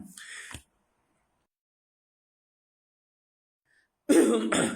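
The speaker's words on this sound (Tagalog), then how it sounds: "pasensyahan niyo na po ang aking ubo" A short burst of coughing, then silence for several seconds before another rough cough and throat-clearing sound breaks in, close and fairly loud.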